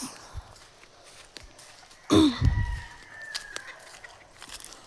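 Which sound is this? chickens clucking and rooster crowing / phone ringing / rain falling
chickens clucking and rooster crowing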